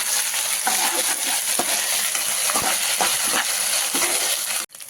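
Onion frying with ginger-garlic paste in a pan for a taro (chama dumpa) curry gives a steady, close sizzle with occasional stirring scrapes and clicks, and no voices.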